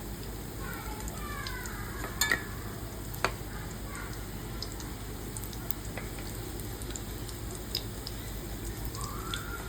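Stuffed bitter gourds (karela dolma) fry in a pan with a steady, even sizzle throughout, broken by a few sharp clicks and clinks of a utensil near the middle.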